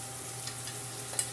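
Lentils being stirred into a pot of sizzling onions, carrots, celery and garlic, a soft steady frying hiss with faint scraping strokes and one small clink near the end, no talking.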